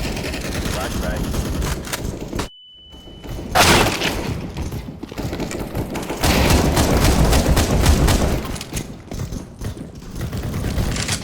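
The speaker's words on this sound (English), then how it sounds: "Throwing flashbang." A flashbang grenade in the CS:GO video game bursts with a sharp bang, followed by a brief high ringing tone, amid rapid gunfire bursts in a LAN office match against bots, with a voice calling out briefly.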